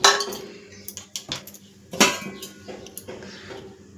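Half a kilo of mutton drops into a cooking pot, making a string of sharp metallic clanks and clinks against the vessel, close and alone.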